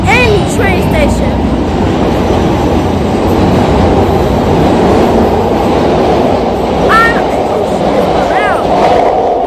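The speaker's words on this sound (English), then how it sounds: "I'm in a train station, but not only any train station." Busy Chicago CTA train station din: a train rumbles steadily with brief metallic squeals, while people chatter in the background.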